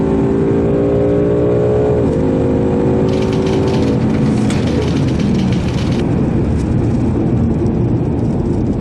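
A 2019 Mustang GT at a Friday night drag race roars close and loud under hard acceleration, its engine note climbing through shifts with a continuous, heavy rumble.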